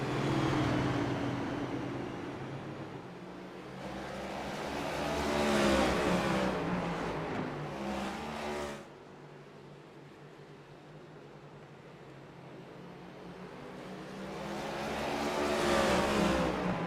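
Race cars at a short-track All-Star race accelerate and pass by, engine roar swelling and fading in several waves with rising pitch, loud and continuous, no talk.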